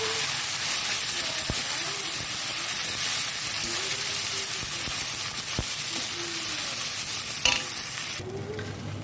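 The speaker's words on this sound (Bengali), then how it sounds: "এখন মশলাটা ভালো করে কষিয়ে নেব" Ginger-garlic paste, spices, tomato and onion fry in a pan for a Bengali bhetki fish-bone dish, giving a steady dense sizzle with occasional stirring scrapes and clicks, close and continuous.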